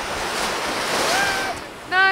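Steady wash of ocean surf rolling onto a beach under wind noise, with a short tonal squeal near the end.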